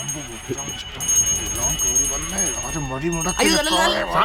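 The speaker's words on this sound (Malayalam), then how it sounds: "അവരോട് മണിയടി നിർത്താൻ പറയേ" A bell rings repeatedly in a movie scene, bright metallic tones running under and between loud overlapping talk from several people.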